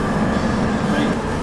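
A commuter train on the G line toward Old Town Arvada, a steady close interior rumble and rail roar with a faint high whine, continuous throughout.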